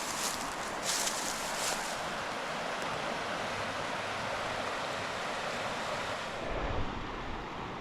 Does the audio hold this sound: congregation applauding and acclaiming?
no